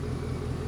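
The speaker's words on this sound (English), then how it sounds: "Racers, start your engines." A 2017 Ford Mustang GT 5.0 V8 idles at a drag race start line, a steady low engine rumble heard close and continuous for a brief moment with no voices.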